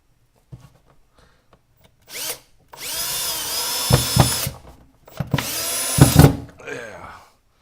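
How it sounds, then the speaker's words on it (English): A power drill drives a drywall screw into wood, two sustained whining bursts of motor and screw bite, loud and close, with brief pauses and clicks between them. "So let's run a drywall screw in."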